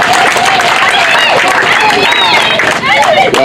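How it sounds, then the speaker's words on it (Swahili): An audience applauds the governor at a scholarship event, steady loud clapping and crowd babble filling the scene with voices calling out over it. "Pigia gavana makofi."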